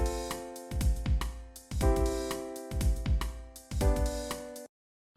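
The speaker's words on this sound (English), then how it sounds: "Say, for example, we have a drum kit leaking into a piano mic." A drum kit bleeding into a piano microphone, with piano chords and drum hits blended together in a few loud, rhythmic bursts that stop abruptly near the end.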